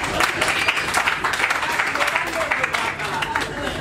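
Guests at the wedding of Royal and Elache Nsona applaud in a dense, lively patter of many hands, close and steady, with voices talking over the clapping.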